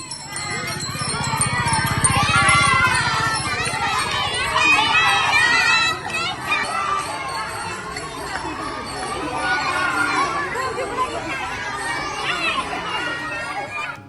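A procession of small schoolchildren from a Zilla Parishad school in Chandoli, Khed taluka, walks as child Warkari pilgrims in a dindi for the Ashadhi wari to Pandharpur. A dense, steady babble of many children's voices runs throughout, with a faint tinkling at times.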